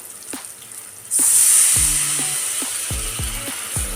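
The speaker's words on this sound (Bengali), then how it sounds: "মশলাগুলো কষানো হয়ে গেছে, এবার আমি সামান্য জল দেব।" Spiced masala hisses and sizzles loudly as a little water hits the hot pan for a Bengali lote fish dish, a steady steam hiss over a few scattered light clinks.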